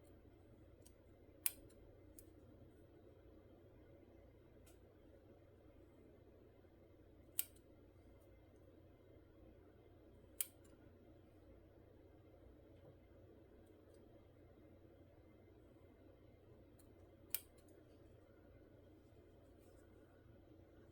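Scissors trimming fabric for a miniature pillow: four or five sharp, isolated snips spaced several seconds apart over a quiet, faint room background, without talking.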